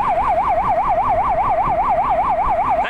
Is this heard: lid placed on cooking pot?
no